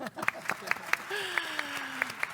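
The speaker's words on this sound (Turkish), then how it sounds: "O zaman bir alkış." Scattered audience applause at a Turkish volleyball talk event, with individual sharp claps spaced out over a low background hum and a faint voice murmuring underneath.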